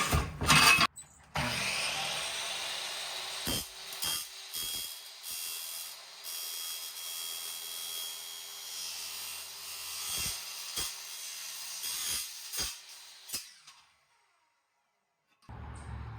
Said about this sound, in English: It actually was pretty easy to use a wood saw blade to cut through this thin aluminum.